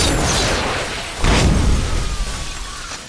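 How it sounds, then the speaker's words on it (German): A rocket launcher explosion in a video game: a loud explosive boom bursts out, followed by shattering debris and crackling, with a lingering rumble fading afterward. "Wir werden jetzt einmal uns diesen Raketenwerfer nehmen"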